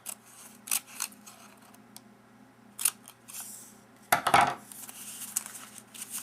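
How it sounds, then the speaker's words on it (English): Scissors snip slits into a cardboard toilet paper tube for a graduation owl gift card craft, several sharp separate cuts at close range with a longer crunching cut near the end, no talking. "I'm going to cut slits. Up to that fold line."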